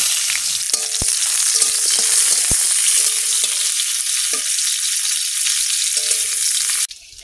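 Bitter gourd fries in hot oil in a wok, giving a steady, loud sizzle throughout with a few soft clicks of stirring, before the hiss cuts off near the end.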